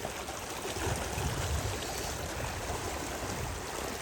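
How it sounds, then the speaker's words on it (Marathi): Water at a hidden village waterfall near Usar, Mangaon in Raigad rushes in a steady, dense wash during the monsoon, close and continuous with no pauses. "मस्त वॉटरफॉल आहे, आपण बघू शकता"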